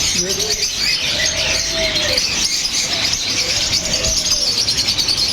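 Caged pet birds chirp together in a bird shop, a dense and loud bed of twittering that carries on throughout, while someone talks briefly over it.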